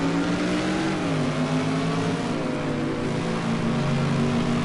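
A BMW GT race car in the British GT Championship at Snetterton runs on track, its engine holding a steady, loud harmonic drone with slight pitch shifts throughout, close and continuous with no voices.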